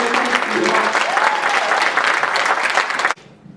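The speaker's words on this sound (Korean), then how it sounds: "여러분 따뜻하고 힘찬 박수로 제38대 양승조 도지사님을 모시도록 하겠습니다." Audience applause at an indoor welfare-forum lecture in a university hall, welcoming the provincial governor as guest speaker: dense, loud, steady clapping from a large crowd that stops abruptly near the end, leaving quiet room tone.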